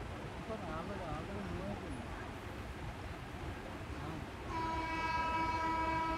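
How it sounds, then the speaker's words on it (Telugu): An intercity express train runs fast between Cheepurupalli and Visakhapatnam, heard from the last coach: a constant rattling rumble and wind rush, then a long horn blast joins near the end. "ట్రైన్ అయితే చాలా ఫాస్ట్గా తీస్తున్నాడు"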